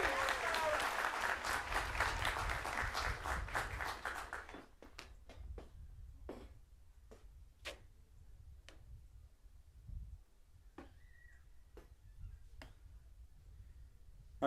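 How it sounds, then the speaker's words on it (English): Dense audience applause at a Washington Adventist University commencement ceremony fills the opening seconds, then thins to scattered individual claps and sparse taps that trail off over the remaining stretch. "Can we have another round of applause?"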